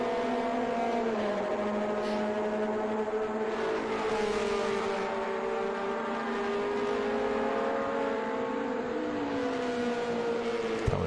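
Several air-cooled Porsche race cars roar close together toward the final corner of a circuit, engines droning steadily with rising and falling pitch, loud and continuous throughout.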